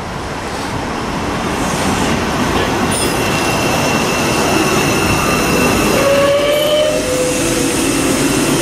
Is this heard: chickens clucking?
no